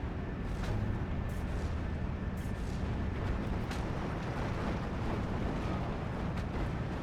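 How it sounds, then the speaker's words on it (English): Continuous rumbling barrage of artillery fire in the World War II strategy game Steel Division 2, with low booms and scattered bursts blending into a steady, dense roar at moderate distance throughout. "So, concentrated artillery just pushing these guys off."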